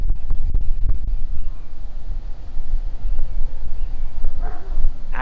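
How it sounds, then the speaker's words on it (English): Wind buffets an outdoor microphone in steady low rumbling gusts that stay loud throughout, with no voice over them. "I hope the wind doesn't mess up the audio."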